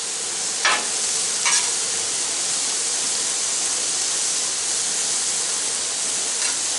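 Jalapeno onion smash burgers sizzle on a Blackstone griddle, a loud steady frying hiss close by with a couple of brief scraping clinks of a spatula, no talk.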